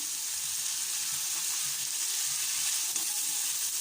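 Radish greens tossed into chopped shrimp frying in a pan give a loud, continuous, close sizzle that holds steady throughout with no talking.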